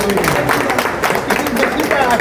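Audience applause at a blood donor honouring ceremony, a steady dense patter of many hands clapping throughout, mixed with crowd noise.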